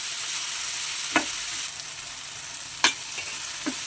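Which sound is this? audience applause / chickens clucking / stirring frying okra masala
stirring frying okra masala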